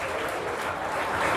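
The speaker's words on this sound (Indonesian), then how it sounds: "Semua pemuja Yesus, tepuk tangan di atas kepala sambil berkata" A church congregation claps hands above their heads, a dense, even burst of applause from many people close by.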